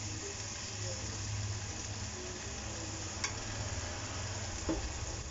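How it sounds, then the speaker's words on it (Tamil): Mushroom masala is sautéed with soy sauce and tomato sauce in a pan, giving a low, steady frying sizzle with a couple of faint utensil taps, muffled and fairly quiet throughout. "லைட்டாக வதக்கி விட்டுக்கலாம்."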